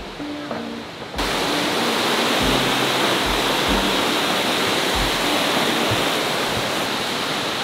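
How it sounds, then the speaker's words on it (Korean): A mountain valley stream swollen after heavy rain rushes past a campground, a loud, steady broadband roar that swells in after a quieter first second and continues with a few low thumps nearby. "이게 지금 계곡 소리 들리시죠?"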